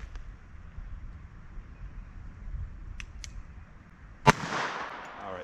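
A single sharp, loud gunshot fired at close range into a ballistic head target, with a quick, hissing decay after it, preceded by quiet room noise and a couple of faint clicks.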